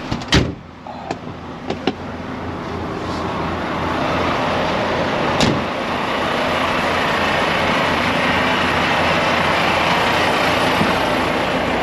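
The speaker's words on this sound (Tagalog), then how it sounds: "Sige, iikutan ko lang din ang truck." A truck engine drones steadily as it drives around, preceded by a few sharp knocks and clicks like a door, the rumble rising and holding loud to the end.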